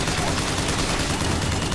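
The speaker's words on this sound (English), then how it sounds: "Oh, a Gatling gun." A Gatling gun in Bioshock Infinite fires a dense, unbroken stream of loud rapid shots, heard up close with no pauses.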